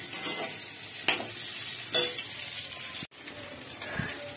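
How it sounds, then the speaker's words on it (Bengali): Bay leaves frying in oil, a close, steady sizzle with a few spatula stirs scraping the pan, briefly cut off before the hiss resumes. "তেজপাতাটা একটু তেলে ফ্রাই হোক"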